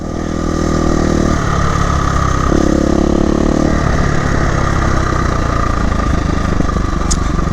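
A KTM 350 EXC-F four-stroke dirt bike engine runs loud and close throughout while being ridden, its pitch rising and dropping with throttle changes, with no talking.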